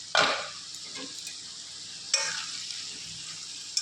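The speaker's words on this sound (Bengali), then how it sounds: "আলুগুলো খুব সুন্দর ভাজা হয়ে গেছে" Potatoes frying in oil in a pan, a continuous close sizzle broken by a few sharp metallic clanks and scrapes as the lid comes off and a utensil stirs, no voices.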